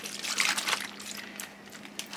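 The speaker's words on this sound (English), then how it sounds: "then some pomegranate juice. Want to pour that in?" Pomegranate juice is poured into a bag for sous vide duck, a soft, faint liquid trickle and splash lasting about two seconds, close by and quiet.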